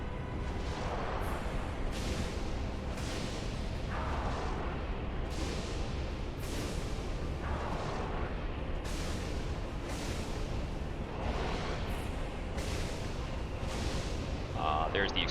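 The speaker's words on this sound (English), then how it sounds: "There's the explosion." Dark Souls gameplay carries a steady roar of rumbling, crackling noise, with repeated bursts of explosion-like booms and blasts spaced through it, loud and sustained without pause.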